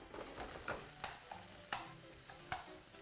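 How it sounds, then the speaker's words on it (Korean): Bean sprouts, mushrooms and onion stir-fried in a hot pan: a steady close sizzle broken by several sharp utensil clinks and scrapes as the vegetables are tossed. "숙주를 반쯤 볶은 다음에 그 다음에 버섯이랑 양파를 같이 넣고 볶을게요"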